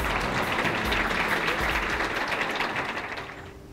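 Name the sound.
audience applause for the ladies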